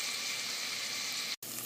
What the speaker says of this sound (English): Cook the tomatoes for 2 to 3 minutes or until they become soft.